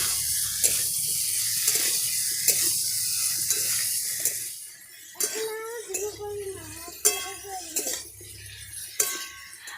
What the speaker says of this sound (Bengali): এবার ভেজে রাখা আলু আর পটলগুলো দিয়ে দেব। মশলার সঙ্গে আলু আর পটল ভালোভাবে কষিয়ে নেব।